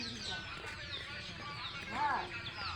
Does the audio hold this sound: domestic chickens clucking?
yes